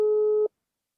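A telephone busy signal sounds once as a single steady electronic tone, close and clear, and cuts off after about half a second into silence.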